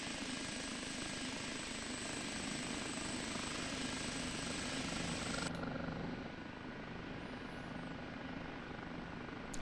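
OH-58D Kiowa Warrior helicopter engine in the DCS combat flight simulator, a steady loud turbine roar with rotor hum throughout, its high whine dropping away partway as the aircraft climbs.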